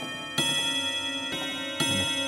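Ticking clock-like tones from the Clocks sound design instrument played in a live stream, a steady sustained tone bed punctuated by three sharp tick-like hits, moderately loud with no voices.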